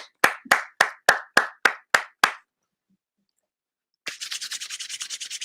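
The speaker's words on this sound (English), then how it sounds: "Give him a round of applause." Eight crisp, evenly spaced claps ring out close and loud for a meeting guest named Tony, then silence, then a fast, lighter flurry of clapping picks up to the end.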